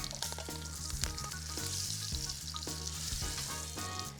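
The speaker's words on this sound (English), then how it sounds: "wait until this is like ripping hot to start searing the bacon" Spice-rubbed bacon searing in a very hot pan, a dense loud crackling sizzle with rapid spattering pops, steady throughout and close up.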